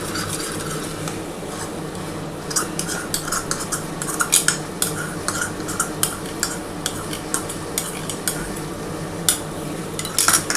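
Fried snakehead fish is stirred in a pan with tomato sauce and soy sauce, metal utensil clinking and scraping in irregular taps over a low, soft sizzle, with no talking.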